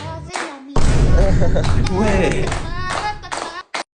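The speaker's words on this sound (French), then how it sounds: "Les copains, les copines, on applaudit pour l'anniversaire de Tess" Children and adults at a classroom birthday celebration clap together in a loud, continuous burst of applause, with voices talking and calling over the clapping before it stops abruptly.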